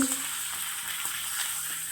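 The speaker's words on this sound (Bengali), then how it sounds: "তো এই যে পাঁপড়টা ভেজে নিচ্ছি।" Papad frying in hot oil gives a steady, close sizzle with a fine crackling hiss that holds evenly throughout, with no voices over it.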